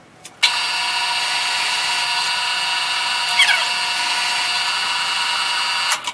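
A drill press countersinks a shallow lip into a workpiece for a half-inch bushing, a steady loud whine starting abruptly and running for several seconds with a brief pitch dip midway, then a clunk at the end.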